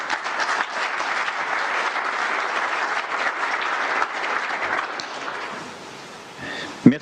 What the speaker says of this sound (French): je vous demande de l'applaudir évidemment